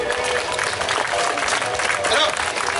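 Audience applause at a village show in Commentry for a performer's puppet, dense clapping from a crowd lasting a few seconds, with some voices mixed in.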